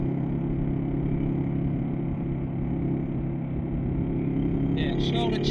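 A KLR 650 motorcycle cruises on the highway at about 100, its engine a steady, continuous drone mixed with wind rush throughout.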